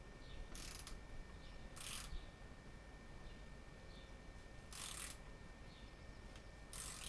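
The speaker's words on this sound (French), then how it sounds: "Et on a eu le petit clic." Small click from a mountain bike headset as it is tightened: a few faint, crisp clicks spaced a second or more apart over a quiet background.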